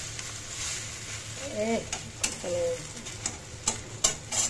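Egg noodles frying in a pan are flipped and stirred, giving a low sizzle with scattered scraping clicks from the utensil and a few brief sharper knocks. A voice murmurs briefly partway through.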